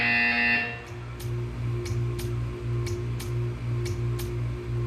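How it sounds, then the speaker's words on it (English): Repeated buzzer tone in the video game Portal 2, a steady low drone with short pulsing bursts recurring about every second over a faint hum, following a brief bright tone at the start. "You will hear a buzzer. When you hear the buzzer, stare at the art."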